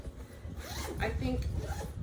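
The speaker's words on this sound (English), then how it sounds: "the second zipper, this is like my favorite feature" Zipper on a travel carry-on bag being pulled open, a quick ratcheting rasp lasting about a second, close and fairly quiet, with a voice talking around it.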